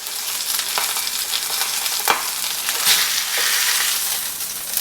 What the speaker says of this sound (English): Nice sear on that side.